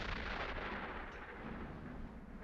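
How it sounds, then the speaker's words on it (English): A deep, rumbling boom rolls continuously like distant cannon fire, broad and muffled, with no distinct separate blasts standing out. "That could be cannon fire."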